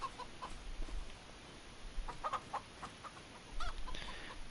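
Chickens cluck faintly in Farming Simulator 25, with scattered short clucks over a quiet, steady background.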